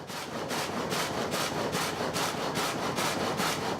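Saw cutting logs in a Vosges sawmill, a loud, close, rhythmic rasp with fast regular strokes about five per second, continuous throughout.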